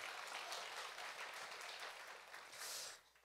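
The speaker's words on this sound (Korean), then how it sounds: "큰 박수로 환영해 주시기 바랍니다" A church congregation applauding in welcome, a fairly faint but continuous wash of clapping that drops away at the very end.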